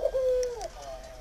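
Farmed pigeons or doves in a large enclosure with trees, soil and sand give a single close, clear coo, a steady tone followed by a softer bending call.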